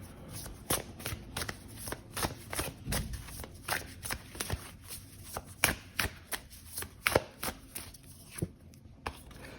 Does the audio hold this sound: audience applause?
no